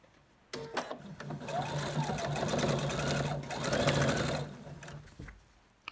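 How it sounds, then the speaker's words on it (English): A sewing machine runs a quarter-inch seam on quilt pieces, a close, rapid steady whirring stitch rhythm lasting about five seconds before stopping. "And we're going to sew 1/4 inch seam."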